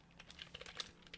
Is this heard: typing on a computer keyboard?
yes